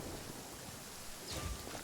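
Steady rain in the video game Genshin Impact, a soft continuous wash of drops with a low rumbling swell near the end, heard alone with no talk.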